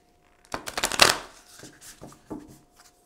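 A deck of oracle cards is shuffled close by: a dense riffling burst followed by a few shorter slides and taps, with no voice over it.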